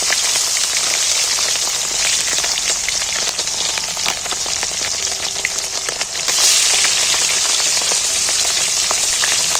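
Cauliflower florets frying in hot oil in a pan, a loud, steady dense sizzle and crackle that continues throughout with no talking.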